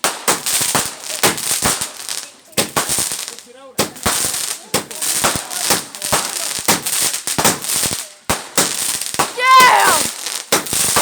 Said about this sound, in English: time for some more fireworks!